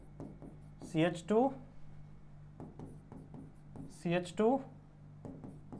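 Chalk or marker scratches out chemical formulas on a board during a chemistry lecture, in two short bursts of strokes while a teacher speaks in between.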